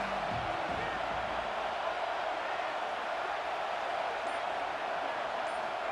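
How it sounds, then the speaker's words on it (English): Stadium crowd noise from EA Sports College Football 26, a steady dense roar of many voices that holds evenly throughout with no clear peaks or breaks. "This crowd ready to make its presence known."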